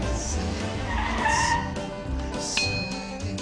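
Car tires squeal and skid under braking, a loud sustained screech with engine noise and a brief high whine, dense and continuous throughout.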